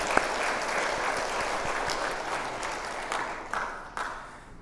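Applause rises from an audience in a Catholic parish lecture hall before a Bible reading class, a moderate, continuous patter of clapping with a few sharper individual claps standing out, gradually thinning toward the end.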